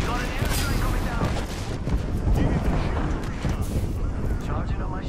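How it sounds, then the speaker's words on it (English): In a shooter video game, airstrike explosions give a continuous, heavy, rumbling barrage of booms and blasts, loud and close, under excited talking. "we got an airstrike coming down"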